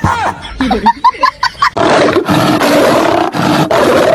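A voice imitates a tiger roar, starting with short broken growls and grunts, then breaking into a loud, sustained rough roar up close that lasts to the end.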